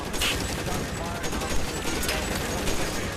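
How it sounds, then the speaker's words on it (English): Dense, continuous gunfire crackles in the video game L.A. Noire, a steady barrage of overlapping shots with no clear pause, loud and close throughout. "There's a little gap in them shooting."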